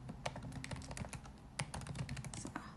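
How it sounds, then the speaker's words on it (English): Typing on a computer keyboard, a steady run of quick close key clicks with uneven rhythm, heard alone without any talk. "I'm like typing this"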